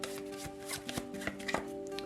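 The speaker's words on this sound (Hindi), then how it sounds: "तो चलिए शफल कर लेते हैं" Tarot cards being shuffled by hand, a series of short riffling and tapping bursts close up, fairly quiet and with no talking over them.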